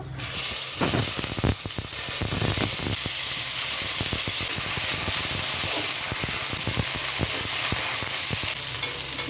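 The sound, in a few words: eggplant pieces frying in oil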